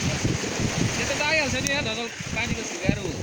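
Wind blows steadily and loudly across the microphone, a continuous rushing roar with faint voices murmuring underneath.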